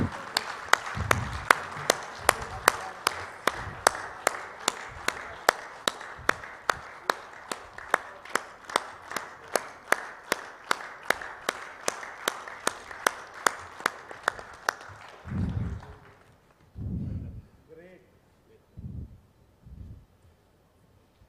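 An audience at an association event claps in a steady, evenly spaced rhythm for about fifteen seconds, each clap sharp and distinct, before the clapping stops and a few people speak.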